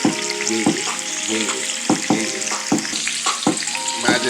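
Blackened salmon fries in a hot pan with a steady, close sizzle, broken by repeated sharp clattering bursts as the fillet is stirred or moved around.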